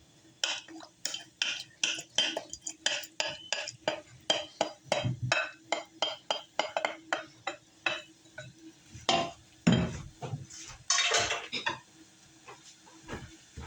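Crushed tomatoes go into a pot of dragon's breath chili, with a quick run of metallic clinks and scrapes from a utensil against the pot, then heavier wet thuds and stirring near the end. The sound is close, with no talking.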